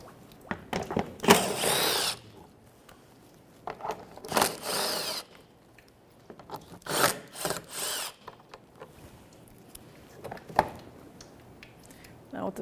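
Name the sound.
removing bumper shield bolts with 10mm socket, Nissan Frontier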